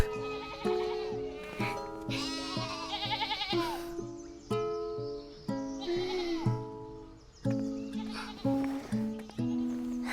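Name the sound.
sheep bleating in a video game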